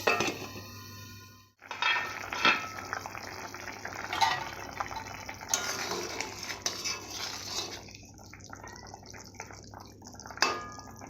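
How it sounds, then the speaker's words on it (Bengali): Metal pot and lid clatter in a home kitchen while banana fritters are being prepared, with clinks and scrapes over a steady low hum and a brief drop to near silence early on. "সেদ্ধ করার জন্য ঢাকনা দিয়ে ঢাকা দেবো"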